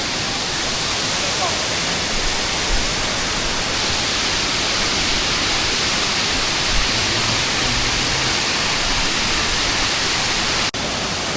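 Sarika waterfall, where clear water tumbles down out of natural forest, gives a steady, dense roar of falling water that holds evenly for the whole stretch with no voices over it.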